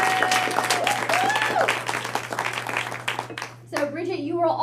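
Applause for a second-place contest winner at a team meeting: dense clapping from a room of people, steady and loud, with voices mixed in, thinning out near the end.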